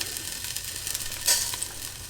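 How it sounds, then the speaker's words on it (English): Panch phoran spices dropped into hot coconut oil over a medium-high flame, giving a short, steady crackling sizzle with a brief louder burst midway. "it's at this stage I want to add about a teaspoon of my panch paran"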